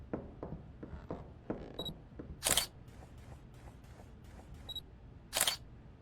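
Two crisp camera shutter clicks a few seconds apart, close and sharp, over soft background shuffling.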